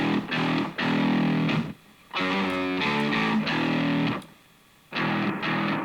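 An electric guitar played through a Safari Pedals Dirty Dog overdrive plugin with gate and filters engaged strikes choppy distorted chords that cut off sharply into silence between phrases, four loud bursts in a row.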